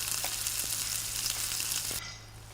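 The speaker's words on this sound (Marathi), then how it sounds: "मसाला वेलची अशा सर्व मसाले हे छानपैकी मंद आचेवर आपण भाजून घेत आहे" Whole spices with cardamom roast in a pan over a low flame for tea masala, giving a soft, steady sizzle with faint scraping stirs before the sound drops off sharply.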